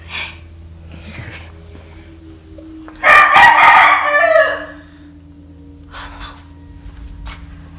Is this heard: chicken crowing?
yes